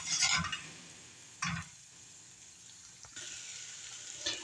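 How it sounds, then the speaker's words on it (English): Onions sauteing in a pan for homefries, a steady soft sizzle with a few louder bursts as the pan is flicked by the wrist and the onions toss, heard close with no talk. "Now that our onions are starting to cook, they're getting a little brown"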